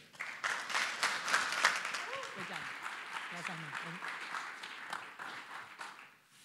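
Conference audience applauding at an education technology summit pitch competition, a dense sustained clatter of many hands with a voice speaking briefly over it midway.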